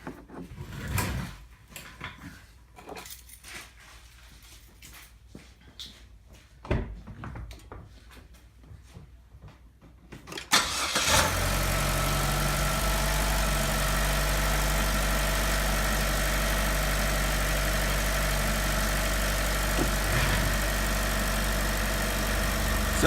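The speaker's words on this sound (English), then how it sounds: "we're going to go ahead and start the car" Scattered clicks and handling noises, then a car engine turns over during a battery cranking test and settles into a loud, steady low idle that continues to the end.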